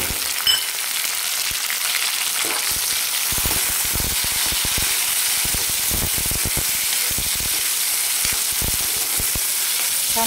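Onion and tomatoes sizzle in a pan, a continuous bright frying hiss with scattered crackles and stirring scrapes, close and steady with no voices.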